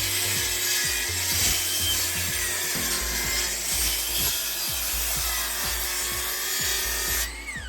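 Wood boards for a workbench are cut by hand with a saw, close and rasping in quick, even back-and-forth strokes that keep a steady rhythm for several seconds before stopping.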